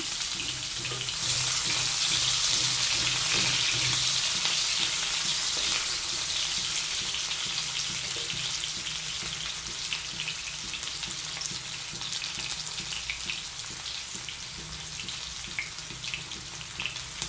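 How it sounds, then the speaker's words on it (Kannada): Chopped onions fry in hot oil, giving a loud, continuous, close hiss and crackle that barely changes throughout. "ಈರುಳ್ಳಿ ಸ್ವಲ್ಪ ಕಂದು ಬಣ್ಣಕ್ಕೆ ಬರೋವರೆಗೂ ಇದನ್ನು ಫ್ರೈ ಮಾಡ್ಕೊಳ್ಳೋಣ"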